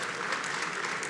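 A forum audience claps for a governor as she is called to the stage, a brief, dense, even stretch of applause heard mid-flow with no voices.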